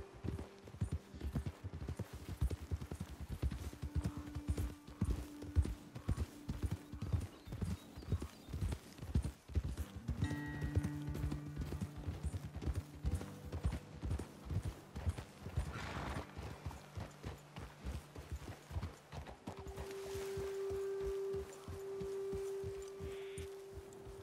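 Horses walk along a trail in the Red Dead Redemption 2 game, their hooves clip-clopping in a steady, even rhythm close by; several brief, faint vocal sounds and tones appear alongside the hoofbeats.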